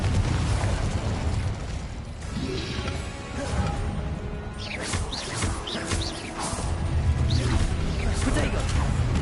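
Confringo blasting spells explode during spell combat in the video game Hogwarts Legacy. Heavy booms and crashing bursts run on without a break amid loud, dense battle noise, with voices mixed in.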